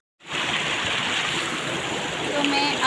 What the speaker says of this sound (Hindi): यहाँ पर हमारा पीने का पानी निकल रहा है